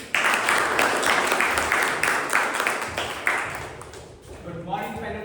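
A room of people at a Toastmasters club meeting breaks into applause that starts at once, stays strong, then fades toward the end, where a voice begins speaking.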